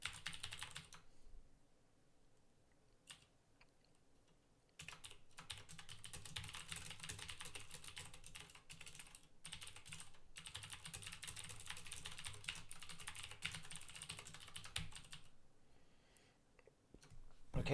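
Fast typing clatters on a computer keyboard, close and quiet. Brief pauses break a long continuous burst of clicks and keystrokes.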